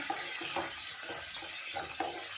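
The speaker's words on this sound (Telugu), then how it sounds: "ఇది బ్రౌన్ కలర్ వచ్చే వరకు ఫ్రై చేసుకోవాలి ఆనియన్స్ని" Onions fry in a pan, a steady dense sizzle with soft stirring scrapes at regular intervals, close and continuous with no voices.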